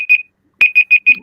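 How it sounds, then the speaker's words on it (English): A timer alarm sounds in short, loud electronic beeps: one beep, a pause, then a run of four evenly spaced beeps, with no talking over it. "The timer went off."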